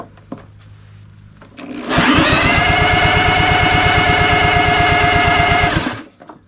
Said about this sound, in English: Let's try a real drill instead of a play drill.